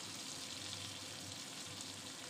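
Spices and chicken masala frying in a pan, a faint, steady hiss of sizzling oil with no other sounds, heard close up.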